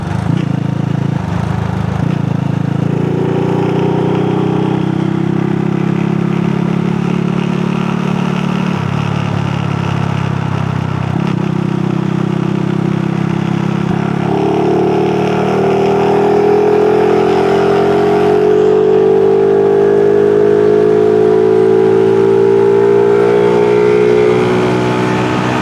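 A Honda Super Cub motorcycle pulls lightly to overtake a car without downshifting, its small engine note rising smoothly and steadily in pitch through repeated climbs, loud and close under rushing wind.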